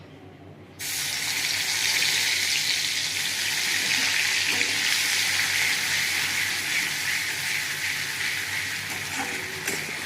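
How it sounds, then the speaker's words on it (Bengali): Onion paste hits hot oil in a wok and sizzles loudly, a sudden burst that settles into a steady, close frying hiss for the rest of the clip. "কড়াতে তেল দিয়েছি, তেল গরম হয়ে গেছে। এবার আমি পেঁয়াজ বাটা দেবো।"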